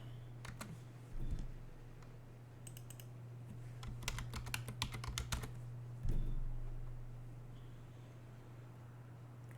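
Computer keyboard typing in a quiet room, with scattered single keystrokes and then a denser burst of quick taps in the middle, over a faint steady electrical hum.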